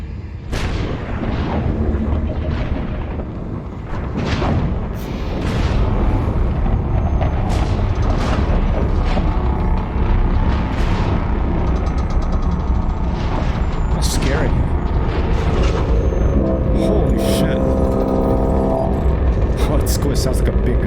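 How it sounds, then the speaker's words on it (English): A hyperspace jump in the space game Elite Dangerous (Odyssey) produces a loud, sustained low rumble lasting about twenty seconds, with crackling bursts and rising tonal layers building toward the end, while people talk over it. "In progress. Traversing hyperspace."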